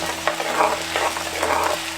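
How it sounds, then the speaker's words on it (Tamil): Chopped small onions with a pinch of salt sauté in coconut oil for a garlic curry, giving a dense, steady sizzle with stirring scrapes close by. "50 கிராம் நறுக்கின சின்ன வெங்காயம், கூடவே கொஞ்சம் உப்பு சேர்த்து வதக்க ஆரம்பிச்சிருவோம்"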